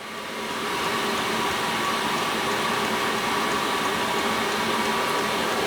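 A diesel heater fitted with a generator silencer exhaust runs with a steady, broad roaring hiss, constant in level and close by, with no other sounds.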